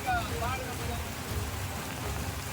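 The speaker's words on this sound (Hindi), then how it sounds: "लगातार हो रही बारिश के बाद कई इलाके बाढ़ जैसे हालात में बदल चुके हैं" Heavy rain falls over flooded streets in Baran, a dense continuous hiss of rain with water rushing underneath and a few brief tonal sounds near the start, heard without talking.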